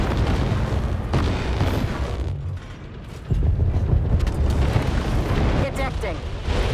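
Incoming missile explosions in the mech game War Robots Frontiers, heavy booming blasts and rumbling impacts in a dense barrage, with a speaking voice over the noise.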